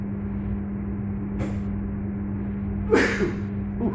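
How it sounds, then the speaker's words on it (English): A single sharp sneeze bursts out near the three-second mark over a low, steady hum. A faint short breathy sound comes earlier. "So, I'm going to sneeze."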